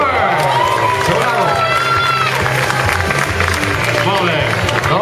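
A dense crowd claps and cheers at the stage start of a Vuelta a España cycling race, loud and continuous, with many voices shouting and talking over the steady applause.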